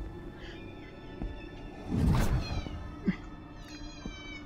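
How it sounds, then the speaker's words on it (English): A cat meows during a VR game session, one loud drawn-out yowl in the middle followed by a shorter, fainter mew, heard over a quiet background hum. "There is a cat in here."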